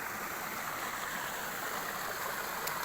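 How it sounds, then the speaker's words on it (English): A small cascade of water runs down through woodland among willows and brambles, a steady, close rushing and trickling flow that continues evenly without pause or voices. "there's a small little cascade of water coming down through those trees, willows, brambles and that"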